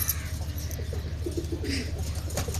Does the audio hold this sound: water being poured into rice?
no